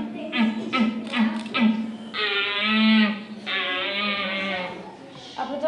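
Young red deer calls presented by hunters to preschool children: a close series of short bleating cries, then two longer, drawn-out tonal calls, fairly loud with no talking.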